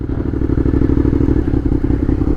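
A motorcycle engine thrums loudly and up close at low speed during a slow riding maneuver while the rider works the clutch, with a rough, pulsing rumble and some clattering, and no voices.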